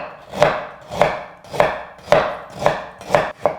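Fresh ginger being sliced into thin julienne matchsticks with a knife on a cutting board, seven crisp, evenly spaced chops close up with no talking.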